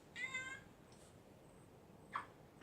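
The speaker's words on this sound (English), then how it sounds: "This filming has been interrupted by" A house cat gives a clear meow, followed by a fainter short mew and then a second brief meow, fairly close in a quiet indoor room.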